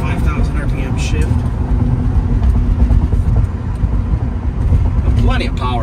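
A 1989 Porsche 944 S2 with a five-speed manual, heard from inside the car, revs hard toward a 5,000 RPM shift, giving a loud, continuous engine drone mixed with road and wind roar.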